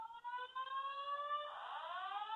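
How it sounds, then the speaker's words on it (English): An electronic alarm rings continuously, a sustained high warbling tone that shifts pitch midway and keeps sounding without pause. "A long alarm there."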